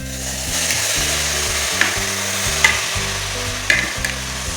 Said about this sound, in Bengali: এবার কড়াইয়ের মধ্যে দিয়ে দিচ্ছি বাঁধাকপিগুলি